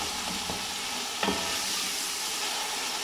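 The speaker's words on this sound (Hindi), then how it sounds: "इतना भूने की स्मेल इसकी मर जाए" Mutton mince frying and being stirred in a pot, a steady close sizzle with a couple of scraping strokes of the spoon against the metal.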